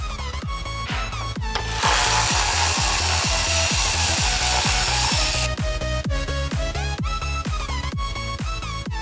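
A power tool buzzes in quick repetitive pulses while working on the bumper of a wrecked Ferrari F430 Challenge, close and loud, with a harsher sustained grinding burst in the middle before the rapid pulsing resumes.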